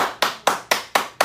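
Five sharp hand claps in a slow, even rhythm, each a crisp close snap with a quick decay and short gaps of quiet between them.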